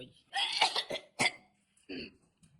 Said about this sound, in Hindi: अब क्या खांस रही हो, जो कैसो खांसन लगी है?